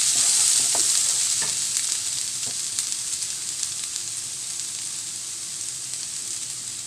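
Chicken with turmeric and salt stirred in a hot frying pan: a continuous sizzle, loudest at first, with a few sharp spoon knocks against the pan and no speech.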